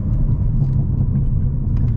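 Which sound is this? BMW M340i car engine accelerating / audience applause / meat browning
BMW M340i car engine accelerating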